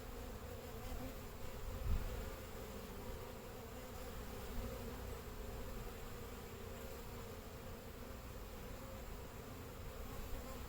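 Honeybee workers crawling over a hive frame backfilled with dry pollen give a steady, low, close-up buzzing drone that holds evenly throughout with no talking.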